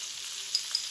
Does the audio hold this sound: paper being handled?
no